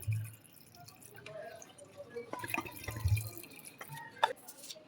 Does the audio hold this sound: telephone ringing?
no